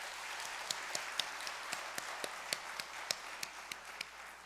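Faint, scattered clapping from a church congregation at an afternoon worship service rises over a soft hiss, with sharp individual claps standing out in an uneven rhythm.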